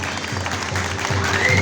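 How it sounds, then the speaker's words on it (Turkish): Audience applause at a Turkish concert with an orchestra, a steady dense patter of clapping that swells slightly toward the end. "Şöyle orkestra ve güzel bir alkış alıyorum."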